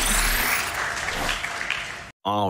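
Crowd applause at a live speedrun showcase event, a dense broadband roar of clapping filling the room that fades slightly, then cuts off briefly before a voice begins speaking at the end.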